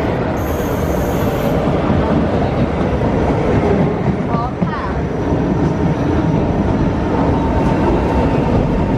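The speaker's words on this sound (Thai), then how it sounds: "รถไฟมาแล้ว" A train arriving at a station in Singapore rumbles steadily close by with dense, continuous rail noise, a faint squeal rising briefly near the middle, and a voice murmuring underneath.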